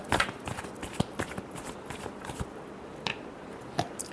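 Tarot cards shuffled by hand in a series of quick, soft riffling and slapping bursts, fairly close and quiet, with brief pauses between.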